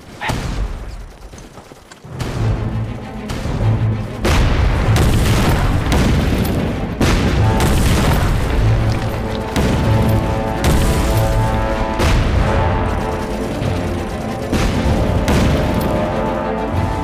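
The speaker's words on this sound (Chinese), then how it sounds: "你看，他在那儿射炮，距离非常合适。" Artillery cannons fire shells in a wartime battle scene, heavy booms and blasts hitting again and again over a loud, dense rumble of continuous combat.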